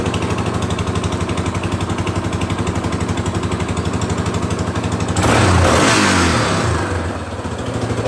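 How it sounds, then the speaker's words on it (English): A small four-wheeler engine with an exhaust leak at the front runs close by with a rapid, chuffing putter, then revs up briefly with a raspy, leaky exhaust sound before settling back. "Kind of sounds like I have like a little bit of an exhaust leak there in the front"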